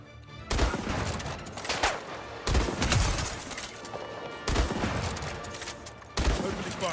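Loud bursts of gunfire in the video game Highguard arrive in several separate volleys with sharp attacks and short gaps, close and dense over game ambience.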